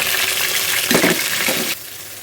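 Onion paste fries in hot oil in a pan for a fish fry, giving a steady close sizzle with a brief burst of stirring scrapes near the middle before it drops quieter.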